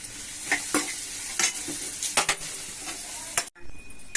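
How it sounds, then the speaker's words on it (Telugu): Bitter gourd and potato pieces fry in a pan while being stirred, with several sharp scraping strokes over a continuous close sizzle and a brief quiet gap near the end. "మధ్య మధ్యలో ఇలా కలుపుకుంటూ ఉంటే వేగుతాయి."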